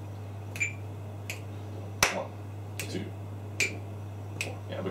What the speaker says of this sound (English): but you start clapping on the 1